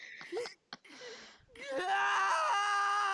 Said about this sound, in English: A scream echoes from a short distance away.